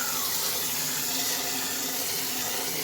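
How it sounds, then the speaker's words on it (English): Hot tap water runs steadily into a kitchen sink to rinse cooked hamburger meat, a continuous loud hiss and splash with no talking. "Make sure you get the hot water and"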